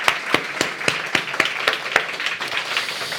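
A church congregation claps in a brisk, fairly regular rhythm, with a dozen or so distinct loud claps standing out over a bed of scattered applause close by.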